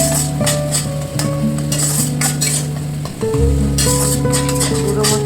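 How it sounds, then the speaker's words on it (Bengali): Ground spices such as turmeric and Kashmiri chilli powder sizzle in a pan for a potato and paneer curry, stirred steadily with scraping utensil strokes; a louder burst of frying joins just past three seconds and continues to the end. "এবার গুঁড়ো মশলাগুলো ভালো করে কষিয়ে নিতে হবে।"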